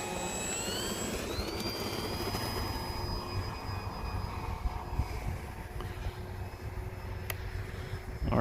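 A small RC jet engine runs steadily at an outdoor flying session, a continuous whine and roar with high tonal whistles holding at a near, even level throughout, with no talk over it.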